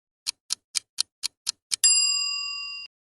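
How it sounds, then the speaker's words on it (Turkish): A phone rings in a quick electronic pattern: seven short bright chirps in even rhythm, then one sustained ringing tone that holds and fades, clear and alone. "Which phone is ringing?"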